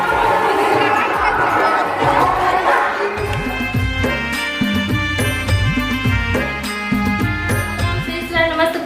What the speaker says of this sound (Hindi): अब देख सकते हो कितना ज़्यादा भीड़ है।